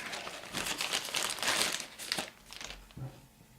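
Plastic bag crinkling and rustling in irregular bursts, close and fairly quiet, with no talking.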